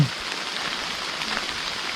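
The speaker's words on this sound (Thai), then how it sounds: "เปียกฝนครับพี่น้อง" Steady rain falling outdoors during a mushroom-foraging outing, a constant close hiss of drops that stays even for the whole stretch with no talking over it.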